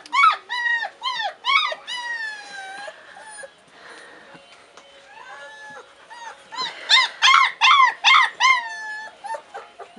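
A litter of 29-day-old Czechoslovakian Wolfdog puppies outdoors whimpers and howls in high, wavering, overlapping cries, coming in bursts with short pauses, loud and close, with no talking.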